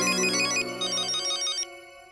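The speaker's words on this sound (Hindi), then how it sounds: "भिड़े मास्टर का ही फोन है।" A telephone ringtone in a family home, a bright repeating electronic melody played through twice in close succession, loud and alone with no talk, cutting off near the end.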